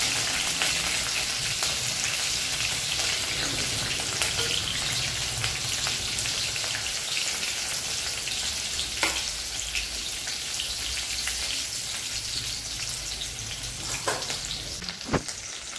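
Chillies fry in hot oil with cumin, mustard seeds and garlic, a loud, steady close-up sizzle with scattered sharp pops and a few clinks of stirring throughout.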